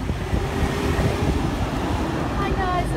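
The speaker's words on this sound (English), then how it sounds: "Oh, it's so windy." Strong wind buffeting the microphone outdoors in Bali, a steady loud roar that fills the whole stretch, with faint voices underneath.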